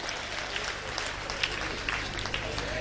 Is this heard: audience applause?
yes